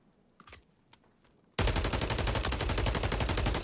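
MP5 submachine gun firing in Warzone 3: a sudden, loud, continuous burst of rapid automatic fire that follows a few seconds of near silence and keeps going to the end.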